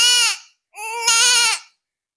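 A young girl imitates a young female goat kid kept at home, producing two loud, close, wavering bleats, the second longer than the first.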